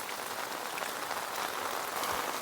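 Heavy first monsoon rain pours down in Konkan, a dense, steady hiss of drops drumming on surfaces with no break across the whole span.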